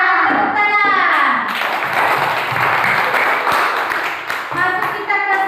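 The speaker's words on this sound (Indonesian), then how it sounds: "Tepuk tangan." Students in a classroom applaud after a correct group answer, a burst of many hands clapping close by, while children's voices call out at the start and end.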